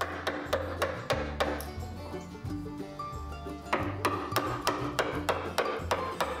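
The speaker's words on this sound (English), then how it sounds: "I take advantage of the wood's grain orientation and I actually split out most of the waste" Waste wood is split out along the grain with a chisel under steady, regular mallet strikes, a sharp close knock about every half second over a low background hum, with no talk.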